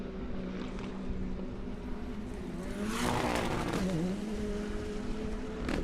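Rallycross race cars on a drying dirt track at Crandon roar past at a distance, engines rising and falling as one car sweeps by more loudly mid-way, with no talk.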